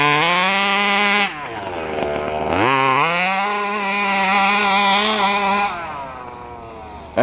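The 32cc engine of a 1/5 scale FG RC truck on knobby tires screams nearby, rising and falling sharply through several throttle blips and sustained high-pitched runs, with one quick drop off and recovery.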